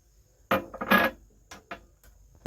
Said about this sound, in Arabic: نفضل برضو نقلب نقلب نقلب